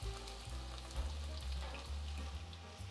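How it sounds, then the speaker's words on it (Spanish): Onion dropped into hot fat sizzles and crackles steadily in a pan, a close, continuous frying hiss with scattered pops and soft stirring underneath, no talking. "una vez que la materia grasa ya está caliente, vamos a agregar la cebolla"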